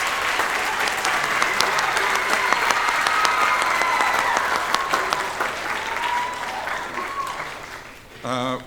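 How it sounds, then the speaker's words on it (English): An audience at a county choral festival applauds a school superintendent, with sustained, loud clapping and crowd murmur up close, fading near the end before a voice briefly speaks. "So I think we should all give a round of applause for a very good superintendent."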